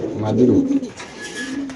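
A pigeon gives a low, throaty coo up close, followed by fainter rustling and a quieter second coo in the background.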